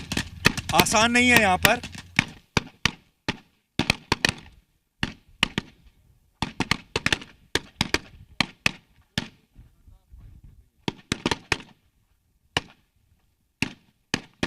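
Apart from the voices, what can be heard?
gunshots during live battle between Syrian Army and ISIS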